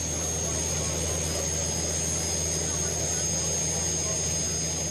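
A tractor-pulling machine powered by three Lycoming T55 turbines, about 10,000 horsepower, runs at a county fair pull, giving off a loud, constant high turbine whine over a deep roar that holds steady.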